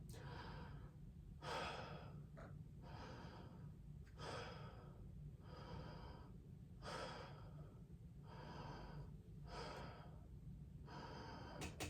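A patient breathes slowly in and out during lung auscultation in a clinical assessment. Each breath is a soft, airy swell that repeats about every two and a half seconds, close and steady, with no talking.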